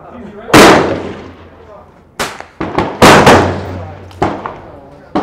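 Rifle shots ring out from a Leatherwood M1200-XLR scoped rifle being zeroed at a shooting position, several loud, sharp cracks at irregular intervals with echoing decays in between.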